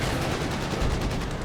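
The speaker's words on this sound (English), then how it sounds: "Sector artillery being utilized" Sector artillery firing in Company of Heroes 2 gives dense, continuous booming and crackling bursts that fill a battle scene.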